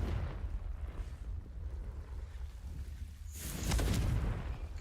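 Confringo blasting spell going off in Hogwarts Legacy: a low rumbling burst swells near the end over a steady deep background roar, with no talking.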